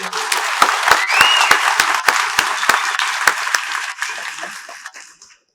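An audience at a Tamil event with actor Vishal bursts into loud, dense applause with sharp individual claps standing out, then the clapping thins and fades away over several seconds.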